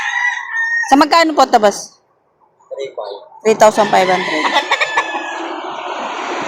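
A rooster gives sharp crowing calls at a poultry and livestock market in Laguna, with two bursts separated by a brief pause, close and loud, while people talk nearby.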